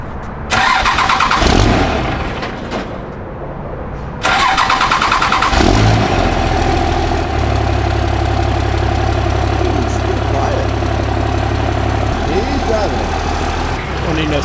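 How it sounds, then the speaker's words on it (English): A Cummins diesel swapped into a Chevy truck cranks and fires up, then settles into a loud, steady, deep idle rumble close by. Voices can be heard over the engine. "let's hear this bad boy fire up"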